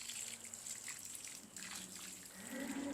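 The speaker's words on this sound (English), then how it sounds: "I'm going to make sure I water these in really well" Water poured over container plants in a winter garden, a steady soft splashing and trickling that runs without a break and swells slightly toward the end, close by and moderately quiet.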